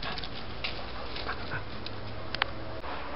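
A dog makes a few brief whimpers and yips over a steady background noise, faint and scattered.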